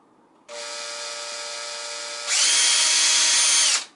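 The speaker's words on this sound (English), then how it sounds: "let's see if I take the drill and go through" A power drill whines up, then bites into a plastic bicycle mirror with a louder, harsher grinding for about a second and a half before stopping abruptly.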